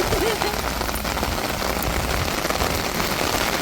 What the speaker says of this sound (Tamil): நல்லா சரியான மழைங்க